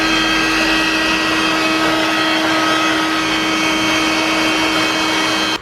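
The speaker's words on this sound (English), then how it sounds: "What's wrong with my vacuum?" A vacuum cleaner runs loud and close, a continuous steady whine with a strong motor hum that holds without a break and stops abruptly at the end.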